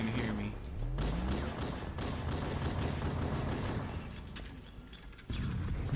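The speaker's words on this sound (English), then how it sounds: "Grenades." Grenades go off in a first-person shooter, a few dull, muffled thuds spaced a second or more apart over a busy, steady wash of game sound.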